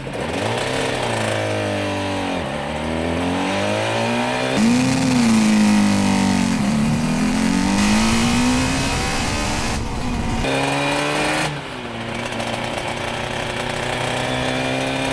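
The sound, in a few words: Suzuki RG two-stroke motorcycle pulling away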